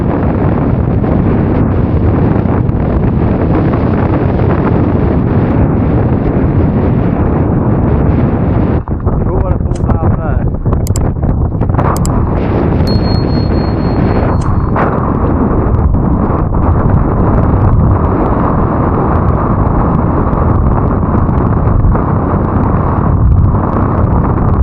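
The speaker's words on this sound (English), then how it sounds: "Weather's really bad up there, windy." Strong mountain wind buffets the microphone high on the Old Man of Coniston in bad weather with rain and hail, a loud continuous roar throughout, with brief gusty bursts midway.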